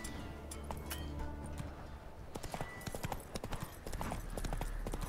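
Horse hooves clip-clopping in The Witcher 3 as the rider speeds up, with a rapid, irregular galloping rhythm over a steady game ambience at moderate loudness and no talking.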